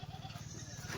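Goats at a livestock sale in Maharashtra bleating in a short, faint burst amid low background noise.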